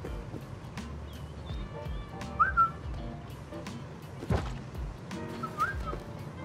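Someone whistling in the survival video game Rust, two short bright whistled notes a few seconds apart, heard over rustling footsteps, clicks and thumps of in-game activity.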